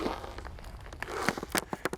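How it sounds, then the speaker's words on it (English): Thawing river ice cracks and crunches underfoot as someone walks forward in spring melt, a fairly faint stream of crisp snaps and crackles that grow sharper toward the end, with no talk. "That is the sound of ice cracking."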